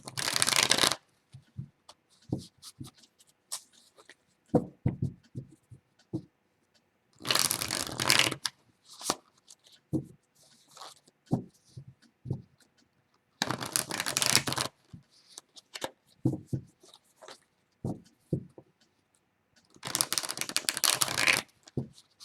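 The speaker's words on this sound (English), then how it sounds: "And then let's shuffle" Gothic Tarot cards are shuffled in several bursts of quick riffling, each a couple of seconds long, separated by soft taps and handling noises, close up with no talking.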